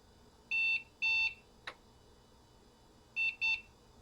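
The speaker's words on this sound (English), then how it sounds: "He's going to beep at us." Short electronic beeps sound in pairs, with a brief click between them, over a quiet hum in an otherwise still room, from a Compaq Deskpro computer starting up with a floppy disk left in the drive.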